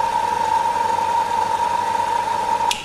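A car engine idles steadily near the microphone with a constant hum. It cuts off near the end with a brief higher noise.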